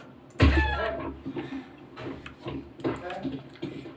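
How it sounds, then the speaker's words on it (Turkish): Short bursts of chicken clucking over a busy Counter-Strike: Global Offensive game soundtrack, with a loud thump at the start and chatter-like noises throughout. "Bu takım arkadaşımız tavuk."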